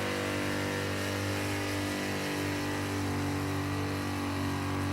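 A car engine at a burnout elimination event holds steady against the rev limiter, a loud, continuous buzzing drone with dense harmonics that keeps going without a break.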